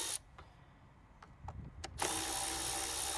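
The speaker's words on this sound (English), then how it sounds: "4 bolts, 8mm in size. We'll just whiz those out." A power tool spins out the four 8mm bolts holding the air filter cover on a Ford Focus 1.6 diesel, with a few short clicks and bursts. A steady, loud whirring then runs close up to the end.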